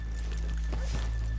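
Horse hooves clip-clopping in the video game Red Dead Redemption 2, a few soft, irregular hoof strikes over a steady low ambient hum.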